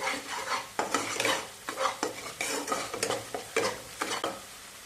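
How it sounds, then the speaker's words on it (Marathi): Ground masala paste is stir-fried in oil for a Shevga batata curry: a soft sizzle under rhythmic spoon scrapes and taps against the pan, about two strokes a second, close and fairly quiet, no speech. "हे वाटण जे आहे ते परतवून घ्यायचे।"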